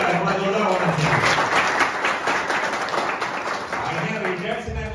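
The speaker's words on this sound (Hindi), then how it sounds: "और जोरदार ताली से हम आपका स्वागत करेंगे।" An audience at a DUCF program in Khalna, Nuapada, Odisha, applauds a guest with dense, steady clapping throughout, while a voice talks over the crowd.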